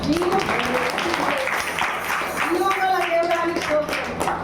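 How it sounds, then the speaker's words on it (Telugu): A church congregation claps hands in a steady rhythm during a testimony service, mixed with voices and singing-like tones. "చప్పట్లు కొడదాం"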